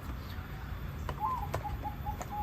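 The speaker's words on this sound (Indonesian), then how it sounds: "Jadi begini Ramane Inyong, kami ingin menanyakan tentang burung perkutut lagi, yaitu mengubah suara burung" A zebra dove, a local perkutut, gives a soft series of short rhythmic coos against steady background noise.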